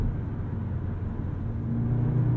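A 2022 Audi S3 accelerates hard under launch control, its engine a loud, steady low rumble and whir that rises slightly as it pulls, heard from inside the car with no talk.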